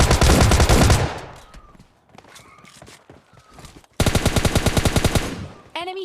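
Automatic gunfire in a battle royale video game, with a loud rapid burst of shots, a quieter stretch of scattered clicks and movement, then another long rattling burst at close range.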